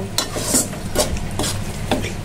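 Taro leaves (kochu shak), sweetened with a little sugar, are stirred in a sizzling pan, with repeated close scraping strokes of a spatula over a steady frying hiss.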